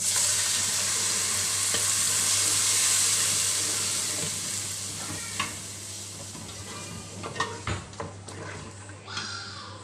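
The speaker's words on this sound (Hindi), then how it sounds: "लहसुन अदरक प्याज गोल्डन ब्राउन हो गया है। अभी मसाला डाल देती हूँ।" Spices fry in hot oil with golden-browned garlic, ginger and onion for a fish curry, giving a steady loud sizzle that fades slightly, with occasional scrapes and taps of a stirring spoon.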